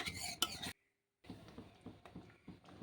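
Papaya halwa with ghee being stirred in a pan, with a spoon clinking and scraping against the metal in short repeated strokes, broken by a brief silent pause.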